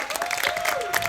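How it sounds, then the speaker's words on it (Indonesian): A church youth-service congregation claps in a burst of loud, dense applause with scattered voices mixed in. "Boleh sekali lagi kasih tepuk tangan yang paling meriah buat Tuhan kita."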